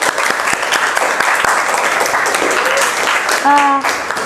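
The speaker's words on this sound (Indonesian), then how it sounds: "tepuk tangan untuk kelompok 1 terlebih dahulu" A classroom of students claps for a group, a loud dense burst of applause with a brief voice cutting in near the end.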